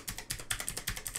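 Quick, quiet clicking keystrokes on a computer keyboard, a steady run of about a dozen light taps close by.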